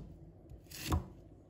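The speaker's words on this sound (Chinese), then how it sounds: "然后切成小块。" A knife cuts through a firm sweet potato, chopping it into small pieces. The clip is mostly quiet, with a single short, crunchy cut landing near the middle.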